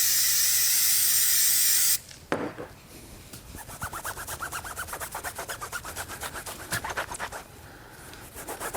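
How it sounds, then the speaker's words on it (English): Tire dressing sprayed from a bottle onto a towel while detailing a BMW E30 M3: a loud steady hiss for about two seconds, a sharp clack, then quieter repeated rubbing and wiping. "spray it right on there"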